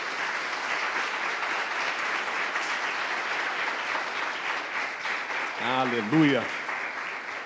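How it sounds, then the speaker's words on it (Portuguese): A church congregation applauds in a steady, sustained wash of clapping, while a voice calls out briefly near the end. "Você que crê, aplauda o nome do Senhor nessa noite."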